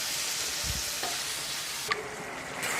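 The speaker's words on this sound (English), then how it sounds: "we will add in the marinated duck and keep frying it" Oil sizzles steadily as marinated duck fries in a pan, with a few stirring scrapes and a clink of a utensil partway through.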